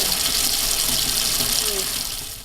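Methane-laced water from a household tap in a fracking-affected home rushes with a hissing, fizzing aeration, steady and close before fading at the end, with a voice faintly underneath.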